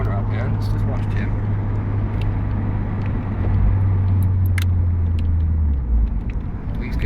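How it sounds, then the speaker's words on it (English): Ford Fiesta engine droning steadily from inside the cabin as the driver changes down through the gears, a low hum that shifts pitch around the middle and near the end, with a few people talking and laughing over it. "He's changing down gears."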